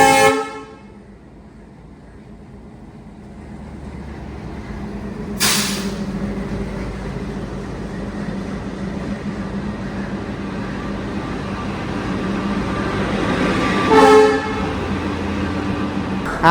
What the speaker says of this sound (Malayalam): നമ്മുടെ ചെന്നൈ മംഗലാപുരം സൂപ്പർ ഫാസ്റ്റിൻ്റെ റേക്ക് ആയിരിക്കണം.